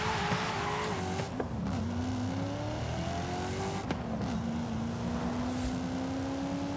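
A car races through traffic in Forza Horizon 5, its engine revving and rising in pitch while the tires squeal and skid repeatedly in a loud, continuous game mix.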